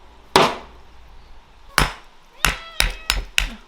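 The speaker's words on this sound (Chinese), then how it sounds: "那个洗干净童子骨哈，给它敲破一下，等会儿好吸骨髓" Blanched pork leg bones are cracked open with several sharp, close cleaver or hammer blows, first spaced apart and then in a quick cluster of four, with no talk.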